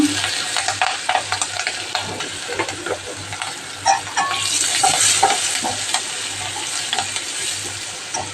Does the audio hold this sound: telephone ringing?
no